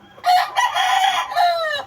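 Chickens cluck and call loudly up close in a few short bursts, with no talking.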